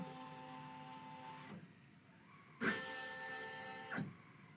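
On a Baby Lock Flare embroidery machine, the motor hums quietly as the needle traces the outline of a design, with two short mechanical clunks as the movement shifts.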